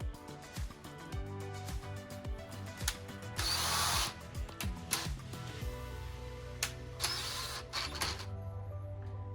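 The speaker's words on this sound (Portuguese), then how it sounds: "Vou fazer um furo assim, daqui para lá, mais no alto da madeira para não pegar com o outro parafuso" A power drill boring a screw hole high up in a wooden chair part, using a bit slightly snugger than the screw, whirs in loud bursts with ratcheting clicks and brief pauses.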